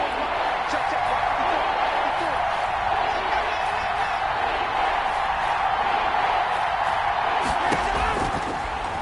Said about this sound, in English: The crowd getting into it as we come up on a big third down.